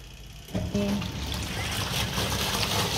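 Water pours into the front of a semi-automatic washing machine loaded with clothes. The steady rushing splash starts abruptly and runs on at even strength, up close.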